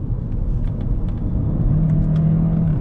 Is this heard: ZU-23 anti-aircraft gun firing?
no